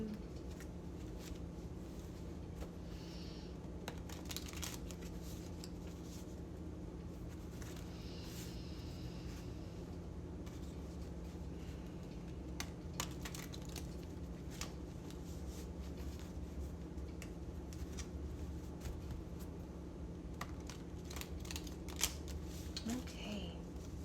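Tarot cards are shuffled in soft, repeated riffling bursts over a low steady hum, close and quiet.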